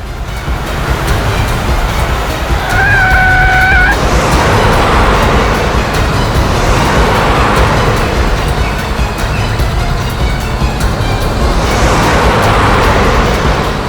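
Cars driving along a road in a TV crime drama scene, a steady broad rush of traffic noise throughout with swells as vehicles pass, plus a brief tonal whine near the start.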